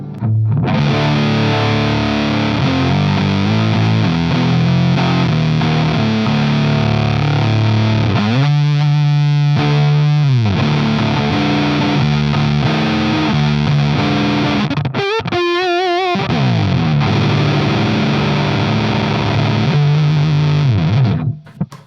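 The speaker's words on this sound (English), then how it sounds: "so you can hear just the fuzz on its own" Heavily distorted electric guitar through a Joyo Voodoo Octave Fuzz pedal with a thick fuzz tone plays sustained chords and riffs, with a few brief breaks and string scrapes, loud throughout.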